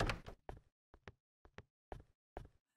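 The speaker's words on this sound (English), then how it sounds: "These doors are so loud" A loud door in a horror video game about a scary nurse, heard as a series of sharp creaks and knocking clunks at fairly regular intervals, close and isolated against silence.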